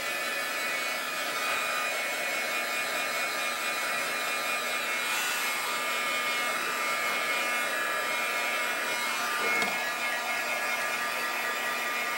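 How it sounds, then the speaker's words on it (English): A heat gun blows steadily over glued silver leaf lettering, a constant airy whoosh with a faint whine, close and even throughout with no break. "I'm going to speed things up with my heat gun."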